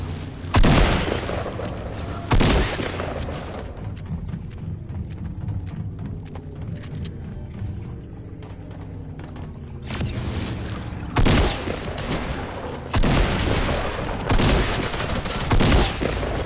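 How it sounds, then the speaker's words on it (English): Shotgun blasts ring out in the video game Fortnite, heavy booming shots in several loud bursts over a constant bed of game noise, with a few long gaps between volleys. "Shotgunned it."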